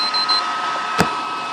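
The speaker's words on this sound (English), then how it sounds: "It'll beep 3 times." A PlayStation 3 console gives a high electronic beep or two after power-on, near and clear over a steady hum, with one brief click partway through.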